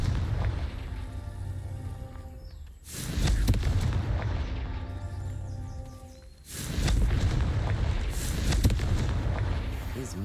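Explosive Confringo spell blasts in Hogwarts Legacy: two loud, rumbling booms a few seconds apart, each swelling suddenly and tailing off into a low roar over game ambience.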